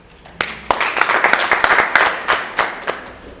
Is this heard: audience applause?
yes